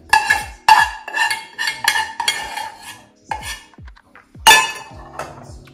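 A spoon clinks and scrapes repeatedly against a dish while stirring cooled tempering made with mustard paste into amla (gooseberry) pickle. The sharp metallic taps come in an uneven rhythm, close and fairly loud, with no talking.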